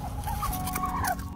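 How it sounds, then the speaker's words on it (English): A turkey gobbling in a quick burst of warbling calls that runs through the whole short clip over a low rumbling background. "Turkey."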